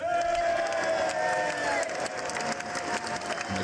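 A large crowd cheers, whoops and applauds as the President of the United States is announced at the State of the Union, a sustained roar of voices with shouts rising through it.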